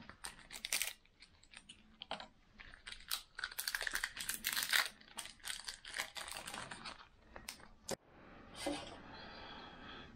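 A Pokémon card pack's wrapper is torn open close up. Quiet, irregular crinkling and crackling tears run for about eight seconds, then fade into soft rustling.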